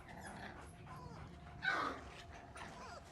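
Puppies whimpering and yipping faintly in the background, with one brief sharper yelp in the middle, under quiet room noise.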